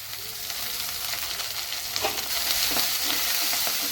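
Onions, green chillies, cumin and seasoning seeds fry in oil in a clay pot, giving a steady close hiss and sizzle with occasional crackles and stirring scrapes.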